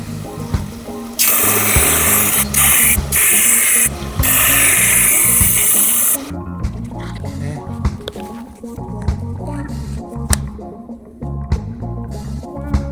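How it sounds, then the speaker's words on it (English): A knife blade is ground on a powered knife sharpener, giving a loud, continuous abrasive hiss in several bursts broken by short gaps, then a quieter stretch of clicks and handling noises. "I just grinded that knife without realizing I didn't put the respirator back on."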